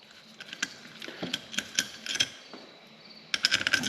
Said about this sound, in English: we're gonna go ahead, pull our rod bolts off.